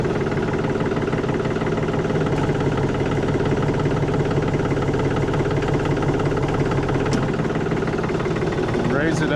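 A Vermeer Rebel 5410 trencher's engine idles steadily with a throbbing mechanical rumble and vibration, close and continuous, with a brief clank near the end.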